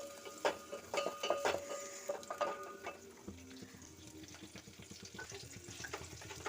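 Onion and green chilli going into hot tempering oil with mustard seeds and cumin, a quiet steady crackling sizzle with light stirring and scraping in the pan, close and without talk.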